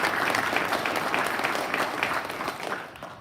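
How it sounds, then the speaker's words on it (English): Round of applause from an audience at a US Air Force 52nd Fighter Wing gathering, a steady wash of many clapping hands that holds evenly for a few seconds and then thins slightly toward the end. "Let's give them a round of applause."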